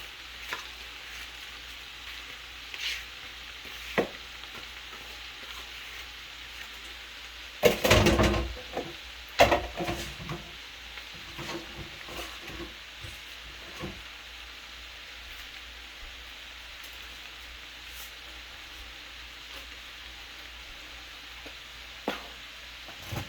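Cabbage and smoked sausage fry in a pan, a quiet, steady sizzle broken by a few louder clatters and stirring scrapes partway through.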